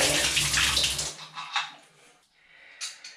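Pressurized water bursting from a pipe as a temporary plug is pulled during a shower valve installation, a loud close gushing splash that cuts off after about a second, followed by fainter drips and trickles.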